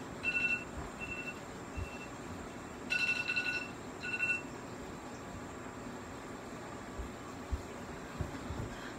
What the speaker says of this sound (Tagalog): tumunog yung alarm clock